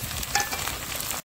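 Tomatoes dropped into hot oil with cumin, mustard seeds and fenugreek in a kadhai over a wood-fired chulha for stuffed brinjal curry, giving a close, bright, steady sizzle that cuts off abruptly near the end.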